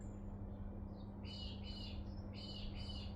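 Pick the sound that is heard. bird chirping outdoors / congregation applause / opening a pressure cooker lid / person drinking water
bird chirping outdoors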